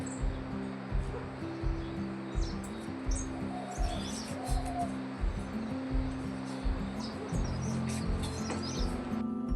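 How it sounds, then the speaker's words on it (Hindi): A small bird chirps in a peach tree on a hillside on an early morning, its thin, faint calls riding over a loud, steady, pulsing low hum. "यहाँ पे आरू के पेड़ में एक छोटी सी पक्षी दिखाई दे रही है मुझे"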